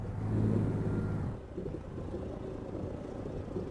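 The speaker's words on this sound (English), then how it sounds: "Trailer just took on some nasty damage and I stalled it, mate." A road train truck engine in American Truck Simulator roars loudly, then abruptly drops off to a low idle-like rumble as the rig stalls after trailer damage, with no voices.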